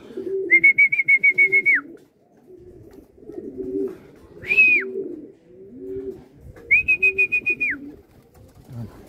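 Racing pigeons cooing nearby in low, throaty phrases during a pigeon derby, broken by a few sustained high whistles that start and stop sharply.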